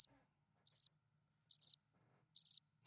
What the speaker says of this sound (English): Hit that crickets button.